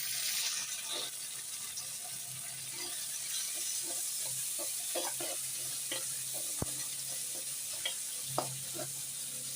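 Onion and tomato sautéing in a pan for kara kuzhambu, a steady low sizzle with occasional stirring scrapes and clinks, close and alone with no talk.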